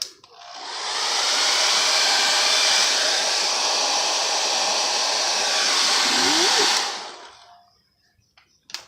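Heat dryer drying a chalk transfer, a loud steady blowing whoosh that starts abruptly, holds for about six seconds and then shuts off, close to the listener with no talk over it.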